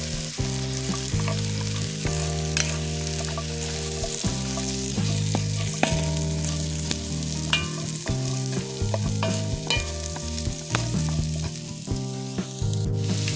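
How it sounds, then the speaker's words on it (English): Celery and carrots sautéing in a pot for homemade vegetable beef soup, a loud continuous sizzle with clinks and scrapes of stirring throughout, over a steady low hum, no voices. "we're going to go ahead and add in our celery and our carrots. And we're going to let that saute for 3 minutes"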